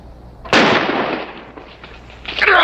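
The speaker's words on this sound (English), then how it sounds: "Take cover! Who's shooting at him?" Gunshot in a western film, one sharp loud crack with a decaying echoing tail, followed by a rising burst of noise near the end.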